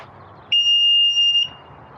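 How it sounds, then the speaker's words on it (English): A Veteran Sherman S electric unicycle's warning beeper, mounted under the headlight, sounds one sustained, piercing, high-pitched beep lasting about a second over quiet background noise. "It is the beeper that's up underneath the headlight here, that white thing."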